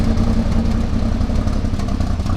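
A drift car's engine runs close and loud, a dense, rough, low-pitched rumble that holds steady without pauses.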